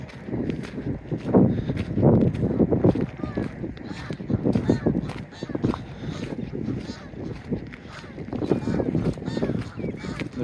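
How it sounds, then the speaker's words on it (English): A flock of geese honks and calls outdoors on a riverside walk, the cries rising in bursts over footsteps and wind, while someone talks over the noise as the birds take off. "The geese are certainly making a bit of noise, and off they go."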